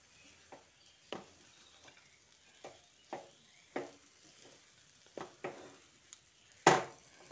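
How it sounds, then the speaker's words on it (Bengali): Fried dry fruits are stirred into semolina halwa in a pan, with soft, irregular scrapes and taps of the spoon against the pan over a faint sizzle, ending in one louder clatter. "ড্রাই ফ্রুটসগুলো দিয়ে আরও একবার মিশিয়ে দিচ্ছি।"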